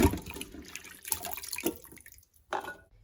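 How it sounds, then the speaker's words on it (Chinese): Tap water runs into a sink while Chinese long beans are washed by hand. There is a steady splashing flow with brief breaks and small clatters, and the water falls quiet for a moment before it starts again. "现在呢，我们接水，再把这些豆角精洗，认真的再洗一遍"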